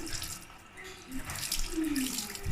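Water runs from a tap over a filter being rinsed, a close, splashing flow that shifts in pitch as the filter moves under the stream.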